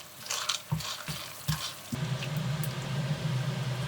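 Rock sugar melting and being stirred in a wok of oil and water to make caramel for braised pork, a steady close bubbling sizzle with a few scraping stir strokes early on.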